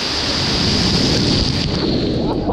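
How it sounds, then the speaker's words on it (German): Water rushing loudly down an enclosed water slide toward a huge waterfall, a dense steady roar mixed with wind-like buffeting on the microphone, close and continuous throughout. "da hinten kommt nochmal ein riesen Wasserfall auf uns zu"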